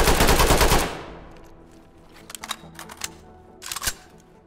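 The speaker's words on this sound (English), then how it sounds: "Let's dump a magazine and then see the fast reload." A rapid automatic burst empties a full magazine in the video game Ready or Not. It is loud for about a second, then fades, followed by a few faint mechanical clicks.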